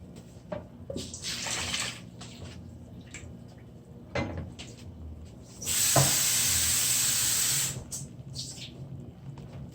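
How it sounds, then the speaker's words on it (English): One and a half cups of water pour steadily into a pot of stewed chicken for a couple of seconds, a rushing hiss amid scattered clinks and kitchen handling noises. "One and a half cup of water, and I'll add this to the pot."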